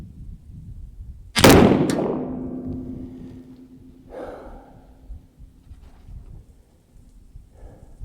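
A single sharp gunshot from a .21-caliber gun, loud and close, with a ringing tail and a fainter follow-up sound a few seconds later over quiet background.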